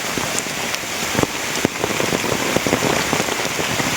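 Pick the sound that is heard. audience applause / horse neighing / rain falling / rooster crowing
rain falling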